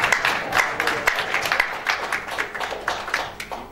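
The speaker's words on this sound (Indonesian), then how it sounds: "Ya, tepuk tangan aja saudara." A church congregation applauds, steady clapping hands filling the room at moderate distance, continuous and slightly uneven.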